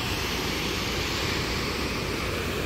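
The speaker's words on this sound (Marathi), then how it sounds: "खूप जोरात पाणी येत आहे." A hill stream in the Satpuda hills rushing hard, giving a dense, continuous, loud roar of water with no breaks or voices.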